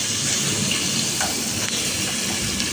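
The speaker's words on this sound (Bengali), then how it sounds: "ওই দেখেন পেঁয়াজ কষি, রসুন কষি দিলাম" Onion and garlic sautéing in a pan, producing a dense, continuous sizzle and hiss that stays close and steady, with no talking.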